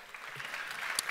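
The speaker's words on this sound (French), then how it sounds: "Je vous demande d'applaudir également" Brief burst of audience applause at a French talk on extreme fatigue and ultra-trail running, steady clapping filling the hall at moderate level for about a second.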